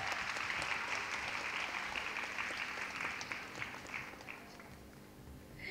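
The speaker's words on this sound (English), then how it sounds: "Please clap louder." Audience clapping at a college degree certificate ceremony, a broad, even wash of many hands that fills the hall and slowly fades, with no voices over it.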